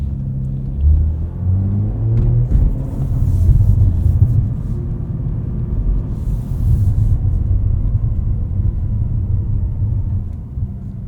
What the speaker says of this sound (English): Let's bump up our engine sound here.